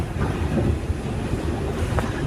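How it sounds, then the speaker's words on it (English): A New York subway train rolls along with a steady low rumble and faint rail clatter, heard from inside the car with no one speaking. "as I'm sitting here in the New York subway"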